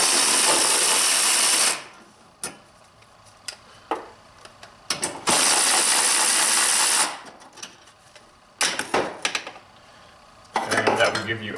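Metallic clinks and short rattles of 10mm screws being taken out of a BMW E46 secondary air pump, broken up by bursts of loud broadband hiss and scattered clicks of tools and parts.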